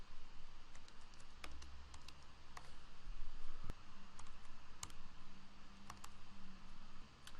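Mouse clicks while a new page is added in Google Sites, a few sharp, close clicks spaced irregularly over a faint steady hiss, with no talking.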